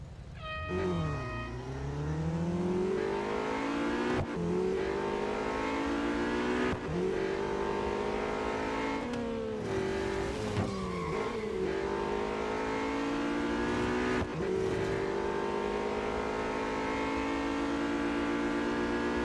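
Race car engines in the mobile game Real Racing 3, a head-to-head on the short Nürburgring track, rev and accelerate loudly and continuously, with repeated rising pitch sweeps as the cars shift up through the gears.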